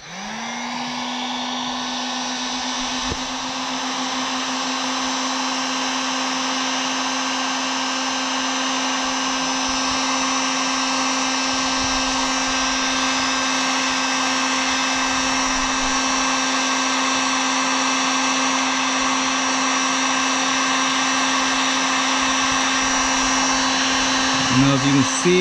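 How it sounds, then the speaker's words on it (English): A heat gun heats a UTV windshield's glass to soften out scratches, blowing a steady, loud whirring hiss with a constant tonal hum that stays even for the whole stretch, with brief talk near the start. "we're going to heat this glass up just enough to get this soft to where the scratches run out of it"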